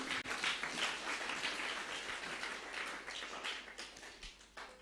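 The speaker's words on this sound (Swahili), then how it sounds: "Pigia Yesu makofi." A church congregation at a youth seminar claps for Jesus, a quiet, somewhat distant patter of hand claps running continuously with uneven bursts.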